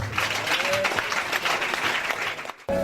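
A church congregation applauds and cheers in a dense, loud burst of clapping with mixed voices, which breaks off abruptly near the end as a single voice comes in.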